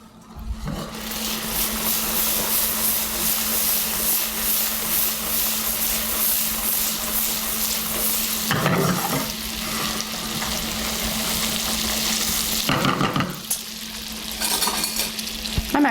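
Coconut butter melting into hot caramel sugar in a pot, a loud continuous sizzle and bubbling hiss while being swirled, with brief clatters of the pan partway through and no talking.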